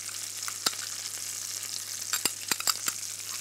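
Trout fillets fry in a pan of butter with thyme, bay leaf and chopped garlic. A steady, fine sizzle fills the pan, broken by a few sharp crackles and spatters near the end.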